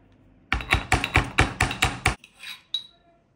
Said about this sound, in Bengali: আর রসুনটা আমি একটু থেতো করে নিই